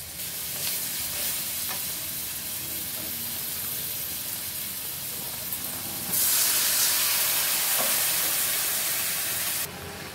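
Turmeric and green chili paste fry in a pan for a chital fish curry, giving a steady close sizzle with occasional stirring; the hiss swells louder and brighter partway through, then drops back near the end.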